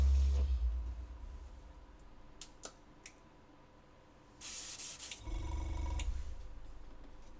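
An airbrush gives two bursts of steady hissing spray, one brief and one longer, with a few faint clicks between them at close range.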